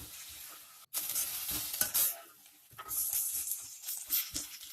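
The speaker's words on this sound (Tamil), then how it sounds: "கருவேப்பிலையும் நான் இதோட சேர்த்துக்கிறேங்க. சேர்த்துட்டு நல்லா வதக்கி விட்டுக்கலாங்க." Curry leaves sautéed in a pan give off a crackling sizzle with scraping stir strokes, broken by a brief gap near the start and then resuming steadily without any talk.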